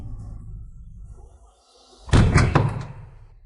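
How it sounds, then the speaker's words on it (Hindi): Loud door bangs at night, a heavy slam or pounding burst of two or three hits after a quieter stretch of low rumble. "आधी रात को किसका दरवाजा खटखटा रहे हो?"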